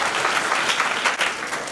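An audience claps together at an annual function, a dense, lively burst of applause that stays close and fairly loud throughout, with no voices standing out.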